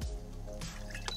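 Water poured into a pan while making choux pastry dough, a brief close liquid splash and trickle against steady low background hum.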